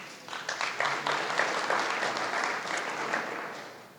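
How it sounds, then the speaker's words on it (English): Applause from the audience at a residents' association annual meeting swells quickly into dense, even clapping, then gradually thins and fades toward the end. "you may want to clap one more time"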